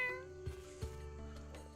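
A cat meows in a video game trailer, two short faint meows over a quiet, tonal musical background.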